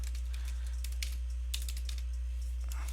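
Keys clatter on a computer keyboard in quick, uneven bursts of close taps over a constant low electrical hum, with no talking.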